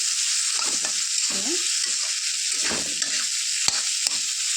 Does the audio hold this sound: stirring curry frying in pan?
yes